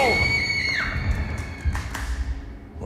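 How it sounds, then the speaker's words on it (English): Women cry out offstage in a staged Macbeth, a high wailing scream that rises and then bends downward, followed by a few low thuds and a brief spoken word. "It's the cry of women, my good lord!"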